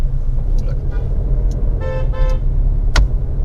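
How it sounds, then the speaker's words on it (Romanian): Car horns honk in road traffic on a three-lane road, with a short toot near the start and two longer horn blasts about midway, over steady engine rumble while people talk inside a car. "Ce te claxonează toți?"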